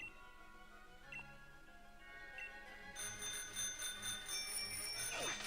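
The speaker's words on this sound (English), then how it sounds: "It's the best feature, ringing the bell." Bicycle bell in Pokémon Sword/Shield: a couple of light, faint dings over soft game music, then from about the three-second mark a louder, sustained ringing that carries on to the end.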